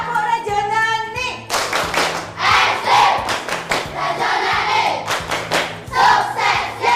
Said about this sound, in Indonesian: kita tepuk rejoni dulu ya